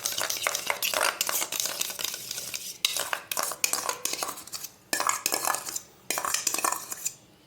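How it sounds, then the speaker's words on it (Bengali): A whisk or spoon briskly beats sour yogurt with a little salt in a bowl, giving rapid clinking, scraping strokes in bursts with short pauses, close and fairly loud, with no talking. "টক দইয়ের মধ্যে অল্প একটু লবণ দিয়ে আমি দইটাকে একটু ফাটিয়ে নেবো"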